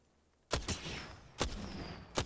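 Apex Legends gunfire: after a moment of quiet, three sharp, loud shot bursts crack out, each followed by a ringing tail, spaced roughly a second apart.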